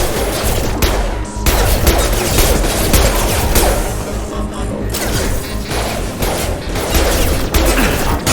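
Dense, continuous gunfire in the sci-fi shooter Mass Effect 2, loud bursts of automatic fire and impacts layered over a steady roar of combat for the whole stretch, with no voices.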